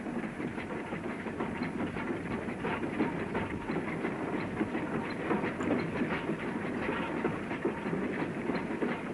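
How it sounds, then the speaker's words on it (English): A goods train rumbles along a single-track branch line near the fringe of Sedgemoor, a steady rolling rumble with rhythmic wheel clatter throughout, heard close from the footplate with no talk. "See the fringe of Sedgemoor from the footplate of a goods train."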